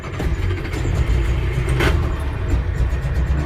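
The air-cooled four-cylinder engine of a 1977 Steyr Puch Pinzgauer 6x6 military truck catches and settles into a rough, rumbling run, close and steady with no talk.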